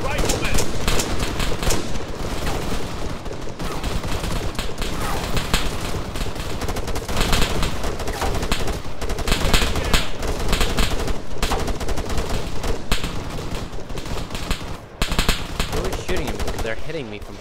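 Heavy automatic gunfire in an ARMA 3 campaign firefight, sustained machine-gun bursts and rifle shots crackling almost without pause, loud and dense throughout with a brief lull near the end.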